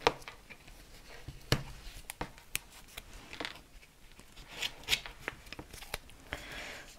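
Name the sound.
tape being torn and stuck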